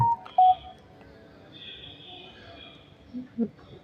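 A Shopee app notification chimes through a few short electronic beeps at the start and near the end. They sit over quiet background game sounds from a 99 Nights in the Forest session.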